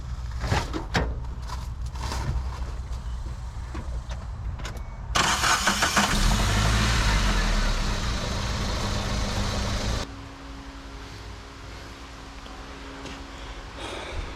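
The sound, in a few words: Geo Tracker engine starting and running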